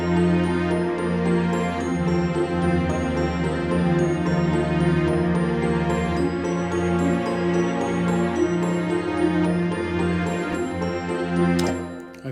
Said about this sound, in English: They're glockenspiel, straight out of the BBC Symphony Orchestra again.